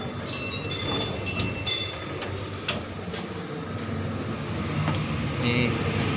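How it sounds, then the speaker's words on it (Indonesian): A long commuter train running from Solo toward Yogyakarta rumbles steadily from inside the carriage, with faint clicks and squeaks over a low rolling drone, and a voice talking quietly beneath it. "Ini kereta komuter dari Solo menuju Yogyakarta."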